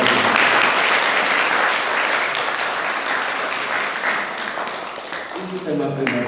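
A church congregation at an Easter service claps together in a loud, sustained burst that slowly thins, with voices talking and calling out over the applause near the end.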